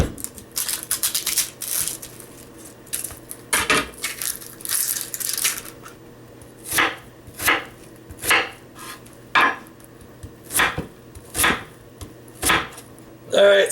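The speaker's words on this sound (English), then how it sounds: "So the next thing's the onions. Cut the ends off." A knife chopping onions on a cutting board: a dense burst of quick cuts at first, then slower, evenly spaced chops, close and crisp against a steady low hum.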